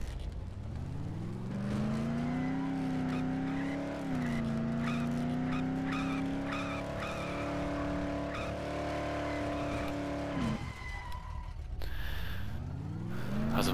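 A car in the video game Dead Island drives steadily with a droning engine whose pitch climbs gently as it accelerates, dropping off near the end before a brief rise, loud and close with faint tire scraping.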